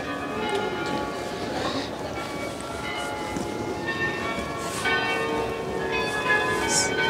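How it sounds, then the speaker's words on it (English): Church bells ringing a melody on New Year's Eve in Amsterdam, bright tuned chimes sounding in sequence at moderate distance over city ambience, with faint voices nearby. "Hear the melody of the bells."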